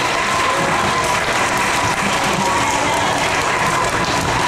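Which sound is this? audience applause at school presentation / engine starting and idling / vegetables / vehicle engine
audience applause at school presentation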